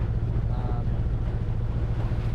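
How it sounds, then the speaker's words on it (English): A sailboat motors along under engine with the head sail out, a steady low engine drone mixed with rushing wind noise buffeting the microphone, continuous and fairly loud. "We'll keep the engine running for a minute"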